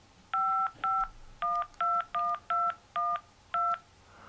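A Samsung Instinct phone keypad plays eight short, evenly spaced DTMF beeps as a number is punched in, with quiet background and no talking.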